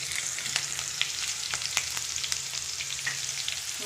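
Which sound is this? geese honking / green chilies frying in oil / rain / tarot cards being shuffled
green chilies frying in oil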